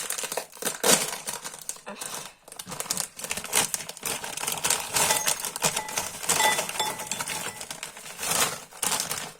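A bag of spicy chips is torn open, with loud, close crinkling and crackling of the packaging in repeated bursts that run through the whole stretch and include a few sharp rustles.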